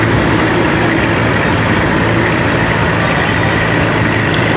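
A John Deere 2850 tractor rolls past in a tractor parade at a steam and craft show, its engine giving a steady, dense rumble that holds at an even loudness throughout with no voices on top.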